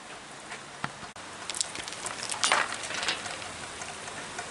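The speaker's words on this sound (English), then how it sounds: "was raining again" Soft, steady rain patter with scattered drops and occasional louder splashes, fairly quiet and continuous, no voices.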